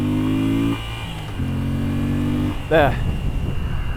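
A 2025 Moto Guzzi V7 Sport engine climbs in pitch toward its 7,000 RPM limiter, drops back, then rises again before a gear shift, heard close and loud with a brief spoken word.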